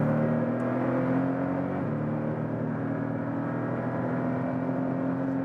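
Porsche 718 GTS four-cylinder engine heard from inside while driving, a steady droning hum with a brief pitch shift as if changing gear, then settling into a constant tone; no talking.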